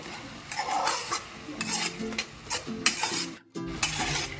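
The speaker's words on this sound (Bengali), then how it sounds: "কিশমিশগুলো এর মধ্যে দিয়ে দিচ্ছি ভালো করে মিক্স করে নেব" Raisins stirred into a pan of star fruit (kamranga) chutney: steady scraping and clinking of a spoon against the pot in uneven strokes, with faint sizzling underneath, close and alone without voices.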